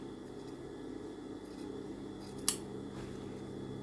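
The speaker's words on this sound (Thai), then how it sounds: "เราก็เจียนตะเข็บ ให้เล็กกว่า ผ้ากุ้นเรานะคะ" Scissors trim the seam allowance of a freshly sewn seam with one crisp, quiet snip, heard over a low steady background hum.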